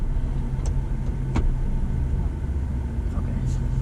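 A 2019 Chevy Silverado Z71 truck on a test drive, its steady cabin road and engine hum continuous and fairly loud, with a couple of brief clicks and a person speaking over it.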